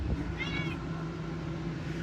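Travelling cats inside a vehicle on a road trip across Missouri give a short meow over a steady engine and air-conditioning drone.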